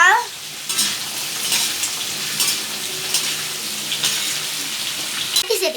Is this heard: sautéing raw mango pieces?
yes